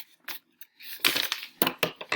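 Scissors snipping the front flaps of a folded paper graphic organizer, a few short crisp cuts in quick succession, close and moderately loud with nobody talking.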